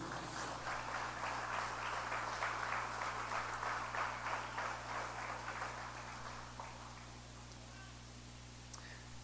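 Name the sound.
applause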